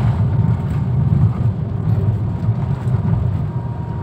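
A motorcycle fitted with a Blackcore exhaust runs loudly and steadily close by, its deep throaty rumble holding through the whole stretch without distinct rev spikes.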